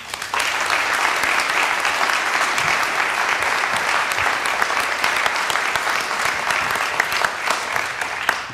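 An audience applauding to welcome speaker William Martin at an evening talk, sustained dense clapping from a large crowd lasting several seconds before tapering off.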